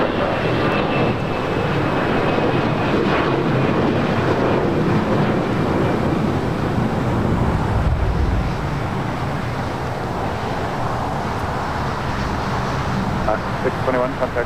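An Air France Boeing 777-300ER airliner at LAX produces a steady, broad jet roar that holds throughout, mixed with wind buffeting on the microphone and faint voices.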